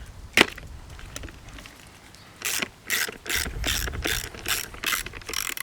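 Ratchet wrench working a bolt loose on a Citroen 2CV damper: one sharp click, a pause, then a run of rhythmic ratcheting strokes, close and fairly loud.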